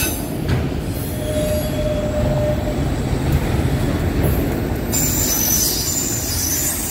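CSX freight train Q217 hauling autoracks rolls past close by, its wheels squealing loudly and continuously over a steady rumble of rail cars.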